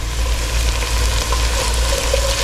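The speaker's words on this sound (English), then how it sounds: "I'm going to add in the garlic." Chopped garlic hits tender onions frying in a pot for Brunswick stew, giving a loud, steady sizzle and crackle that carries on without a break.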